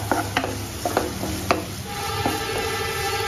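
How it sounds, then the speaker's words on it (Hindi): Onion with ginger and garlic sautéing in a pan for lemon coriander soup: a soft steady sizzle with a few sharp clicks of a spoon stirring against the pan, close and without speech. "अब इसके जिंजर गार्लिक के साथ अब इसको हम अराउंड, इसको भी हमने बिल्कुल कलर चेंज नहीं होना चाहिए, बस थोड़ा सा सॉटे करना है।"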